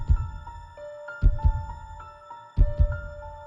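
A heartbeat sound effect from Octopath Traveler thumps in low, heavy double beats, three pairs at a slow steady pace, over a soft sustained chime-like musical drone with no talking.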